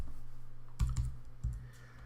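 Several quick, soft key clicks on a computer keyboard as a password is typed, a short burst of taps over a low hum in a quiet room.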